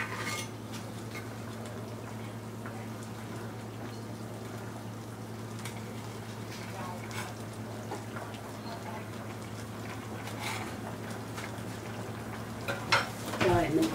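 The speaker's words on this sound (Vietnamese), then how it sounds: "Giờ mình hớt bọt xong cái mình đậy nắp lại trước nha các bạn" A lid goes onto a simmering pot of braised mackerel with a quick metallic clatter near the end, after a long stretch of low kitchen hum and faint bubbling.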